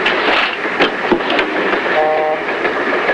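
A passenger train rolls along with a loud, steady rumble, rhythmic rail clatter and a brief tonal squeal partway through.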